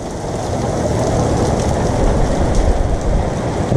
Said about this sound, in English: It's still doing it. It's hailing.